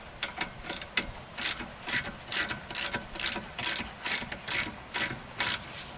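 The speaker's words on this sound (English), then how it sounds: "So we're just snug tightening both bolts to make sure before we tighten." A hand ratchet clicks in short repeated bursts while snugging brake caliper bolts on a 2001 VW Jetta, crisp and fairly close with small pauses between strokes, no voices.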